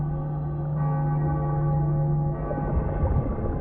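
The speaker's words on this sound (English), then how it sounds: "Bells were cracked too. Gave off this eerie, atonal clang." Cracked bells in Cyberpunk 2077 ring out in an eerie, atonal drone, a steady sustained clang with a harsh, rough edge that thickens toward the end, heard alone without speech.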